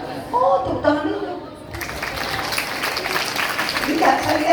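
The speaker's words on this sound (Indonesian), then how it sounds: "tepuk tangan dulu" A crowd at a mosque during a Ramadan preaching tour visit breaks into applause after a few spoken words, the clapping steady and fairly close, with voices faintly underneath.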